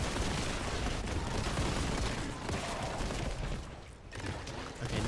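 Grenade blasts and gunfire in Warhammer 40K Boltgun, a dense, loud, continuous wash of shooting and explosions with only a brief dip before the barrage resumes.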